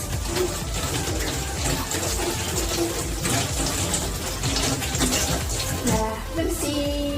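Hands rinsed under a running tap during handwashing, water gushing and splashing steadily and loudly close up for the whole stretch, with no talking.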